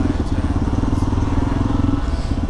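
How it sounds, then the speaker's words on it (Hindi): Busy road traffic with motorcycles roars close by, a steady engine drone with a dense low rumble that runs unbroken throughout and sits under faint background voices. "गजब ट्रैफिक होकर रखा हुआ है।"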